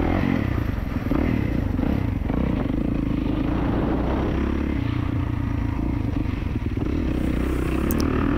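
A 2024 Kawasaki KX450 dirt bike is ridden, its engine droning steadily at close range with continuous rumble, clatter and scraping throughout, with no speech.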